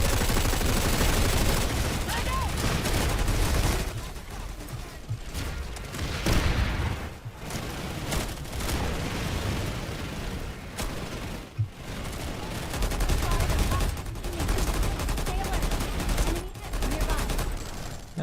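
Repeated slug shotgun gunfire from the video game PlanetSide 2, sharp shots recurring through a busy battle din with other weapons, steady and loud, with a voice occasionally speaking over it.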